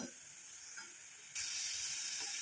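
A herbal hair-dye decoction bubbling and sizzling in a hot iron pan, a steady hiss that suddenly grows louder partway through.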